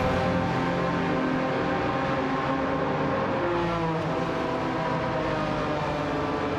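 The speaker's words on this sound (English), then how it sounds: "Megane doesn't have an upgraded exhaust. But I've heard that they can sound alright" Four-cylinder Renault Megane engine in a racing video game, a steady droning hum held at a constant pitch with layered harmonic tones and no talking over it.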